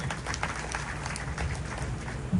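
An audience at a Guru Purnima celebration at Nirant Bhudar Dham in Mehsana applauds the donors, a dense, steady wash of clapping from many hands that fills the whole moment.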